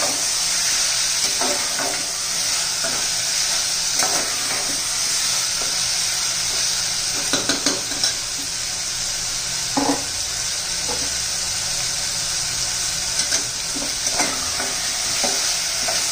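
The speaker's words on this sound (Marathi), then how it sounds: "शेंगदाणे घालायचे, तेलामध्ये परतून घ्यायचं आहे सर्व." Peanuts and potato stirred and fried in hot oil for masale bhat: a loud, steady sizzle broken by repeated scraping stirs of a spoon through the pan.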